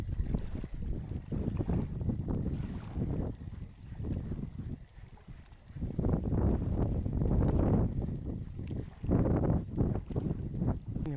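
Gusty wind buffets the microphone beside a reservoir during fishing, rumbling loud and low in uneven surges that rise and ease over several seconds with no talk.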